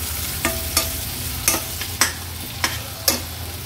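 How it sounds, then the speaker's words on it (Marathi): Chopped onion sautéing in a little oil for a spicy Agri Koli crab curry, with a spoon stirring through it in about six distinct scrapes over a steady low sizzle, close and fairly loud, with no talk. "कांदा पण व्यवस्थित आपल्याला शिजवून घ्यायचा आहे।"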